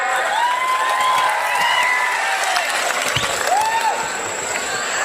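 At a political rally in Ahmednagar, a large crowd claps and cheers loudly, with whistles and shouts riding over the steady applause throughout.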